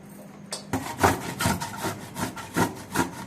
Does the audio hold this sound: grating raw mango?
yes